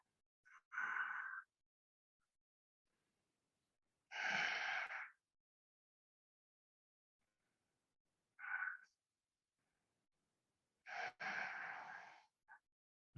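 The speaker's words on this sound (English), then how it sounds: "You might even be breathing audibly." Audible ujjayi breathing during a yoga class: four separate long breaths, each a close, breathy rushing sound, with near silence between them.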